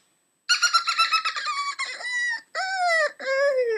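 A human voice imitates high, squeaky animal calls: a rapid series of chirping squeals followed by a few longer, sliding whistle-like cries, alone.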